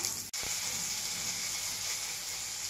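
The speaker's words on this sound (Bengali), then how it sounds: "লঙ্কাটা ভাজা হয়ে গেছে" Green chilies sizzle and fry in hot oil over black cumin seeds in a home kitchen, a steady, close crackling hiss that runs throughout after a brief knock near the start.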